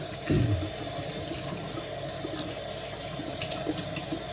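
Cool tap water runs from a faucet while an acrylic paint brush is rinsed, a steady close splashing stream with a brief louder gush near the start and no talking.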